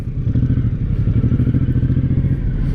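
A 2023 Suzuki Boulevard M109R muscle cruiser motorcycle rides by up close, its big V-twin engine giving a loud, throbbing, pulsing rumble for under three seconds, alone.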